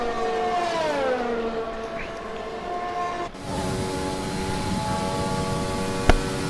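Formula 1 car engines in the F1 2020 racing game whine at high pitch, revving up and shifting gears in steady tones, with onboard engine sound loud throughout and a brief sharp click near the end.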